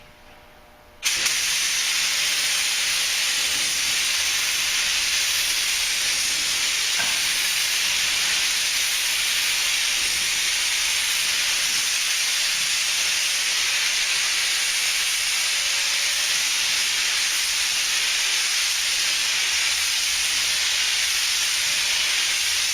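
An automotive spray gun lays clearcoat over fresh base coat on an Acura RL, running at turned-down pressure after a brief quiet start, then hissing steadily and loudly for about twenty seconds with no talk.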